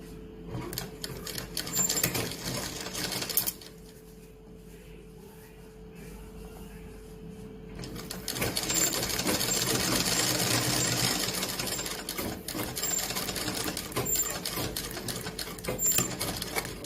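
A sewing machine runs close by as it stitches the pocket of a kalidar kurta, its fast, steady needle chatter stopping briefly and then starting again for a longer run.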